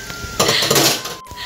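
Dishes being washed by hand at a kitchen sink, with pots, plates and cutlery clattering and clinking together in a dense, close burst that eases off before a brief silence and a quieter tail.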